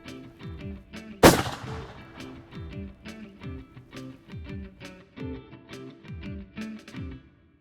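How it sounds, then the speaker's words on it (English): A single loud rifle shot at a deer during a hunt rings out near the start, sharp and close, followed by a decaying echo, while people talk quietly and steadily underneath. "Well, Shane, he's fallen only a couple of steps from where I took the shot"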